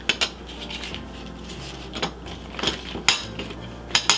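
Metal spoons being buttered for making divinity candy clink and clatter against dishes and each other in scattered sharp knocks, close and fairly loud, with no speech.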